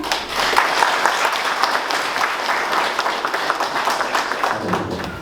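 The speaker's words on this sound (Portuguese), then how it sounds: "Uma salva de palmas ao Glória." An audience at an anniversary gathering of an anti-alcoholism association in Naviraí breaks into sustained applause, many hands clapping steadily and fairly loudly before fading slightly at the end.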